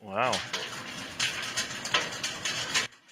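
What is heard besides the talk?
hail falling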